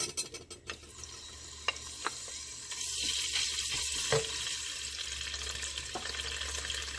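Ginger garlic paste hits two tablespoons of hot oil and sets off a building, steady sizzle. Several sharp taps and stirring sounds come first, and the frying carries on close by.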